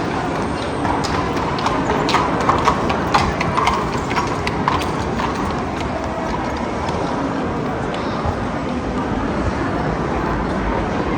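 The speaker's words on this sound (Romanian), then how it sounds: "Pentru că și căruțele cu cai trec pe aici." Horse-drawn carriages clip-clop along a busy Vienna city street, steady overlapping hoofbeats under a constant wash of traffic and crowd noise, with people talking in the background.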